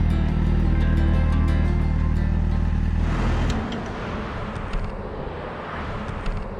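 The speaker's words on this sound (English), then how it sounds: "there's a little traffic noise going by it, so it's not exactly the wilderness" Road traffic drives past a rest stop at a quarry pond in the Adirondacks, a steady loud vehicle rumble that thins out partway through as a car recedes, leaving quieter background noise.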